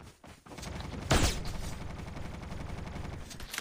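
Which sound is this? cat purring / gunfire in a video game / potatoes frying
gunfire in a video game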